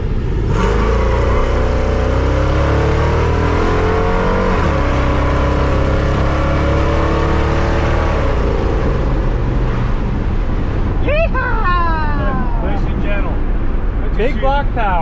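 A 1979 Ford full-size pickup with a big block engine rumbles steadily and loud, its pitch climbing and falling as it accelerates on a drive, with a few brief squeaky mechanical chirps near the end.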